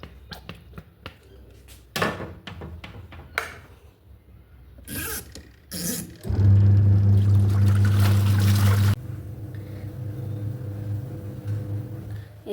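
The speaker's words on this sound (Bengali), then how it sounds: "মেশিনে মেশিন ভিজিয়েছি, চাদর টাদর সকালেই ভিজিয়েছি আজ। এবার মেশিনটা চালিয়ে দিই" A home washing machine loaded with soaked sheets and fabric softener starts up after some handling clatter, settling into a loud, steady low motor hum that later eases to a quieter, continuous running drone.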